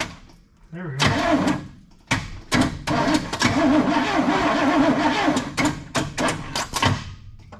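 A Squarebody Chevy truck engine cranks over in repeated loud bursts with short pauses between them, close by, while people talk around the truck.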